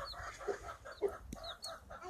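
A laying hen with a single chick clucks in short, repeated calls at close range. The calls form a soft, steady rhythm over faint background noise, and no one speaks.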